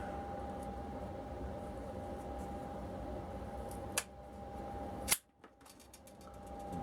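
EDC scissors cutting through eight layers of MOLLE webbing, a quiet buildup then two sharp snipping crunches, the second loudest, followed by faint clicks of the blades, close to the microphone with no talking.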